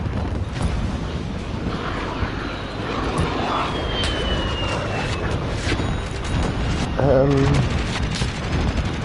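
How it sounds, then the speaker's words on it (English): Incoming cruise missile in Modern Warfare, a rising whoosh and sweeping tone over ongoing game noise with scattered gunfire and booms, loud and sustained, with a voice speaking amid the action. "Enemy cruise missile incoming"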